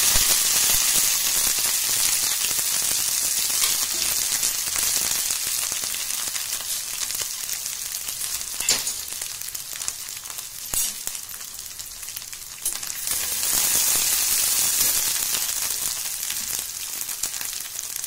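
Green chilli thecha hitting hot oil with mustard seeds and cumin, a steady loud sizzle and crackle of frying that fills the whole span and eases slightly midway before swelling again.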